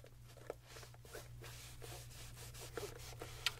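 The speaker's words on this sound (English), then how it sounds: "And by using that microfiber towel, you can actually get some of those scuffs out pretty easily." Microfiber towel rubbing scuffs on a white Gucci sneaker, giving soft repeated scrubbing strokes in a steady rhythm, close and fairly quiet, with no talking.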